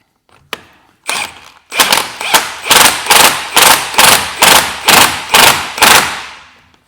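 Driveshaft on a Vauxhall Meriva A being hammered through the wheel hub, a series of about eleven loud, sharp metallic thuds, the first few spaced apart, then a steady rapid rhythm, close by with no talk.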